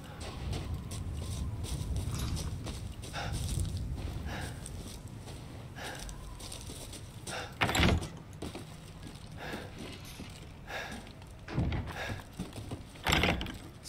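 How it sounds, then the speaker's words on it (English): Doors slamming shut in the survival horror game Resident Evil Village: three loud, heavy bursts stand out over a dense, rumbling ambient game soundscape, with no talk. "Some of these doors close and they just sound like fucking creatures"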